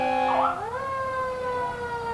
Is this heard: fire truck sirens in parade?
yes